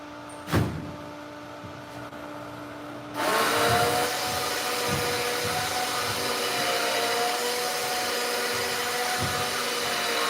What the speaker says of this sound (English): It's an automatic lifting drying rack, so you're actually hearing the winch on the machine.